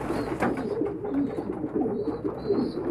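Homing pigeons cooing steadily at close range, a male pursuing a female, with soft low repeated coos layered over one another and no speech.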